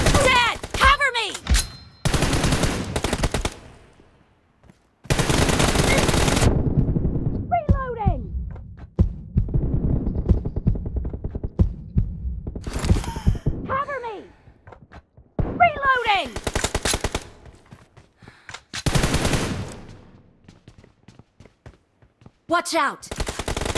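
Rapid machine gun fire in a mobile team deathmatch shooter arrives in loud, repeated bursts with pauses between them, while a voice calls out over the action.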